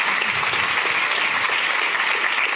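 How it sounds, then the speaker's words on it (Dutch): An audience gives dense, even applause at the opening of an evening event called Night of Dictatorship, sustained at a steady volume throughout without talk. "Geef ze een warm applaus."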